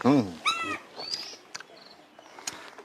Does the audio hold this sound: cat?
yes